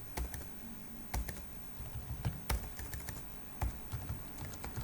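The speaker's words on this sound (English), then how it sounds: "I'll type it here so it will be visible" Typing a login name on a computer keyboard, a quiet, irregular patter of individual key clicks with a few sharper strikes, close by, with no voices.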